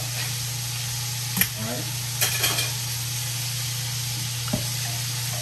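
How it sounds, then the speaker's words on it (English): Steady sizzling of chicken wings frying in hot oil runs throughout, with a few brief clinks and a short spoken word over it. "So, meanwhile my chicken wings is frying, right?"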